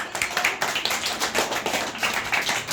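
A group of children in a classroom clap together, a quick, uneven burst of many hand claps heard close and continuing throughout.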